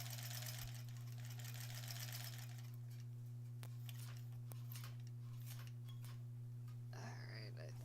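Embroidery machine stitching a snowflake tree topper, a steady fast mechanical whir and rattle that slows into sparse clicks, with faint whispery talk near the end.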